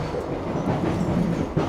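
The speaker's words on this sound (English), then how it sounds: "Chilling out on the train, Mr. Brompton with me." Steady rail clatter and low rumble inside a moving train carriage, continuous and fairly loud, with faint rhythmic clicks of wheels over track and no voices.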